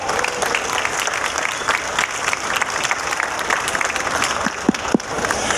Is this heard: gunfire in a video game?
no